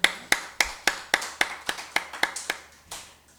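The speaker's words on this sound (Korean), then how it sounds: "박수." A church congregation applauds at a Sunday worship service with a run of about a dozen sharp, evenly spaced claps that start strong and slowly fade out, with no voices heard.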